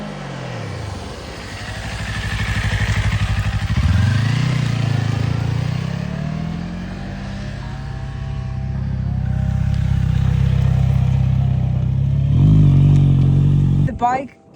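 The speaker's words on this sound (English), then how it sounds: "So, the bike is beautifully riding." Kawasaki Eliminator 500 motorcycle with a 451cc parallel twin engine being ridden: a close, droning exhaust that rises and falls through repeated gear changes and revs, with wind buffeting and a person speaking throughout.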